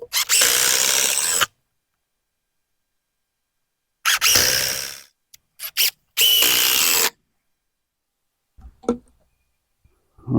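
Power drill driving fasteners into a farm fence, three bursts of loud, close whirring separated by pauses, with a few short clicks and knocks afterward.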